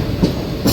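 A Tirupati–Charlapalli special train passes nearby as a steady rolling rumble, with a couple of brief brighter clatters over the running noise.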